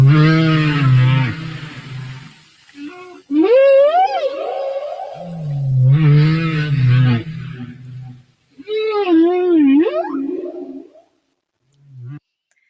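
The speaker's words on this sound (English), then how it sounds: "that beautiful kind of almost haunting, echoing song of the humpback whale" A humpback whale sings in long, haunting phrases, alternating low moaning tones with rising, swooping wails, loud and echoing in repeated cycles with short pauses between.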